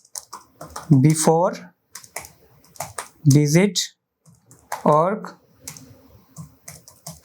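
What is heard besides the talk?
typing on a computer keyboard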